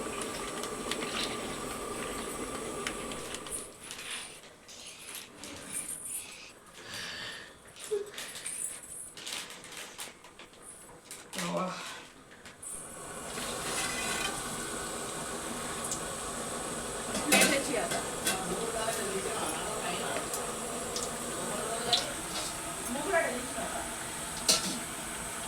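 Sakinalu, Telangana village-style crispy rice snacks, frying in plenty of oil, a bubbling sizzle that fades in and out, with stirring and utensil clinks partway through.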